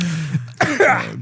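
A single close cough, short and throaty, followed by a brief rasp.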